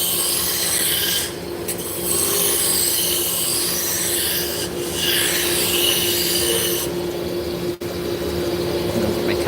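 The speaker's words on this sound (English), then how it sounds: "Now we're gonna work on this taper. I'm gonna be using a roughing gouge." A roughing gouge shaves a taper on spinning wood on a lathe, a loud, continuous rasping scrape with a steady hum beneath and slight surges as the cut moves along.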